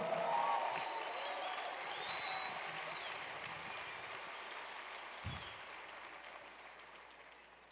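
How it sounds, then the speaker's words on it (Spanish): Applause from a church congregation during a bilingual English and Spanish service, a steady moderate patter of many hands that slowly thins out, with a brief thump near the end. "Come on, give God a big round Démosle of al applause."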